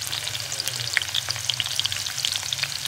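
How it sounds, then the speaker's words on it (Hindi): Onions frying in hot ghee in a pan, giving a dense, close crackling sizzle with many small pops throughout and no talking. "ये उसी पैन में गरम किया जिससे मैंने अपनी दाल भगा ली थी और इसमें मैंने डाल दी है प्याज।"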